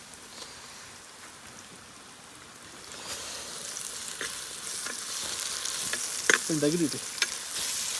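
Browned onions with ginger paste frying in a pan, a steady close sizzle and crackle that grows louder toward the end, with a brief spoken word near the end.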